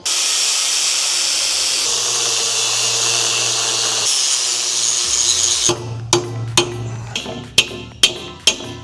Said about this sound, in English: I'll just give that more of a grind.